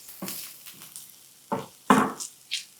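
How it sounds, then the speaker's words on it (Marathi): Ginger-garlic paste and turmeric being stir-fried in a pan, heard as a few separate scraping, sizzling stirs with short gaps between them, moderately close and fairly quiet, with no talking. "आता यामध्ये आलं लसूणचा हा ठेचा किंवा कूट आणि हळद मिसळूयात आणि एखाद मिनिटभर फक्त एकत्र परतायचं."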